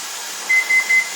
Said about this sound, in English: our timer is just about ready to go off